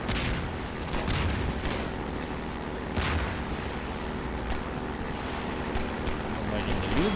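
Gunfire in Half-Life 2, a few sharp shots cracking out over a steady engine-like rumble, with a player's voice talking over the game sounds.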